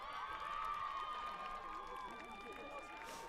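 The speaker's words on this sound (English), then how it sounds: "Joyous cheers from the crowd." A crowd cheers at a school hockey match between the Robert Gordon's College 1st XI and a leavers side, a fairly faint, sustained roar heard over commentary.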